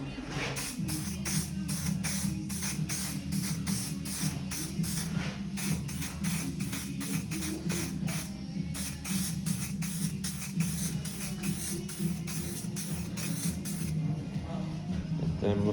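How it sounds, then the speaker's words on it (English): A spray gun coats wardrobe drawers with paint in a long series of sharp, rhythmic hissing bursts, each spurt cut off by a short pause, over a steady low mechanical hum from the compressor. "try and finish spraying those wardrobes and stuff so that it's ready for a clean"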